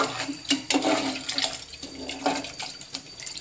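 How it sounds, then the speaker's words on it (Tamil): Water pours steadily into a pot for cooking briyani, splashing and gurgling in uneven bursts, close by with no voices. "இப்போ இதுக்கு தேவையான அளவு தண்ணி ஊற்றிக்கலாம்"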